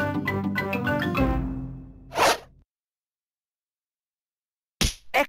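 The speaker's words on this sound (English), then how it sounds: "Daddy Pig must flip the pan to cook the pancake." Peppa Pig Nintendo DS game music fades out, then a quick swishing whoosh sounds as a pancake is flipped in a pan. After a pause, a couple more short swooshes follow.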